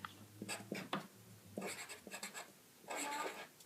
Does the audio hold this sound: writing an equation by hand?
yes